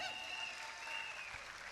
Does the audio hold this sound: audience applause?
yes